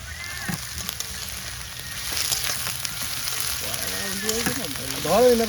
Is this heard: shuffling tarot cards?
no